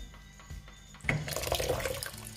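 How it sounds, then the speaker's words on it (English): Tap water pours into a bowl to soak sea moss: quiet room tone at first, then the faucet opens with a splash and a steady, bright rush of water filling the bowl. "You just want to catch enough water so it covers it, okay?"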